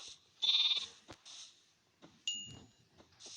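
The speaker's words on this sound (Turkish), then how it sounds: "Bir tane daha küçük balamız oldu. Koyun balam." Sheep bleating on a Turkish farm with a newborn lamb, several short bleats at close range, one loud, wavering and sustained, others brief and quieter between rustling.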